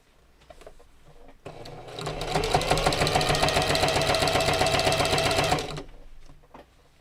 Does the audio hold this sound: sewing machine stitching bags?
yes